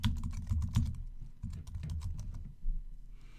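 Rapid keystrokes on a computer keyboard, a quick irregular run of close clicks and taps with a few brief pauses.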